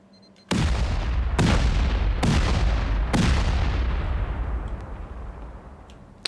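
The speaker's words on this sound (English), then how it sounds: "There's so many turrets in this base. I hear them all over." Automated base turrets firing inside a heavily defended Rust base, heard as four loud booming shots spaced about a second apart, each followed by a long rumbling decay that fades toward the end.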